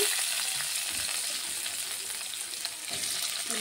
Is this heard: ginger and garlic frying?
yes